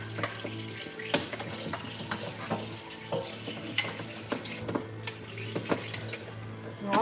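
Running water rinses something in a kitchen while seafood paella cooks, a faint, steady wash broken by small clinks and clatter, with a low hum underneath.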